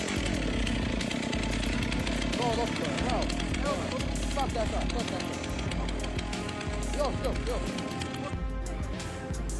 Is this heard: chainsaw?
yes